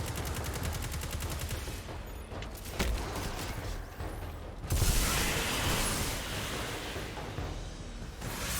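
Weapon fire in the Destiny 2 video game during a combat mission: bursts of rapid gunshots mixed with mechanical clatter, loud and continuous across the stretch, with no talk.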